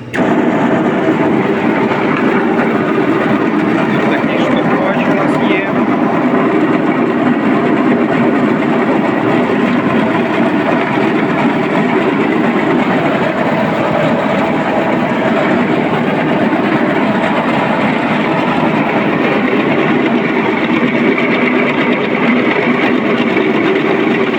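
An MPR-350M industrial vegetable cutter runs with a loud, steady mechanical hum and motor drone that holds constant throughout, with no voices.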